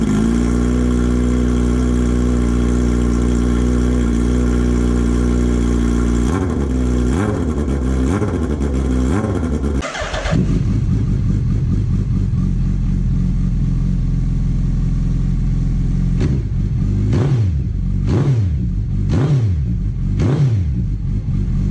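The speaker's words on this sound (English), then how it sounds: "the bike has a very lovely sound. It's very, very unique for the Hayabusa" A Suzuki Hayabusa sport bike engine idles steadily up close, then is revved in several quick, loud throttle blips that rise and fall before settling back to idle.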